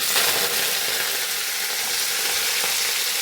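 Chopped onions fry loudly in hot coconut oil with mustard seeds for sambar, giving a steady, close, broadband sizzle that holds level throughout with no voices.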